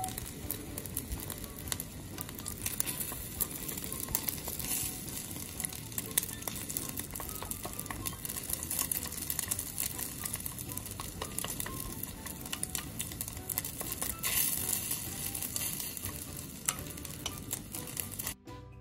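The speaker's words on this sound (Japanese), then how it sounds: "油が温まったら卵を入れていきます。" Beaten eggs frying and being stirred in a pan of hot oil for a winter soup, a steady close sizzle with scraping and stirring throughout, brief voice murmurs underneath.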